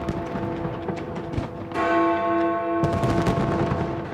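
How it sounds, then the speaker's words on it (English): Big Ben's deep bell strikes and rings out with a sustained, humming tone over a crackling, booming background of distant New Year's fireworks in London. "the London skyline lit up and the sounds of Big Ben chimed"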